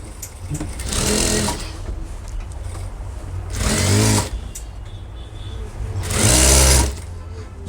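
A sewing machine stitches the back seams of a small child's school pants in three separate humming bursts, each a second or so long, with quieter handling and a voice in the pauses.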